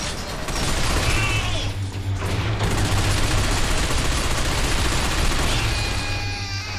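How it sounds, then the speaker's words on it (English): Rapid gunfire in the third-person shooter video game Binary Domain, a dense, continuous barrage of shots with mechanical clatter, steady and loud throughout. "It's really hard to hear because, you know, gunshots."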